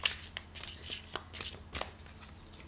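Oracle cards handled and shuffled from a card box, a soft, close riffling and flicking of card stock in quick irregular bursts, quiet and alone.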